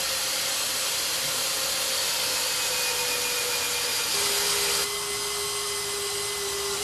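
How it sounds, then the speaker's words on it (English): A SteelMax D1 magnetic drill grinds steadily through a 2-inch-thick piece of steel, a loud, continuous whining hum that dips slightly in pitch toward the end. "Check out the D1 as it cuts through this 2-inch thick piece of anchor steel."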